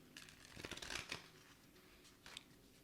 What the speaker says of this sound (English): Sometimes this deck is a little hard to shuffle. It's a little larger than most.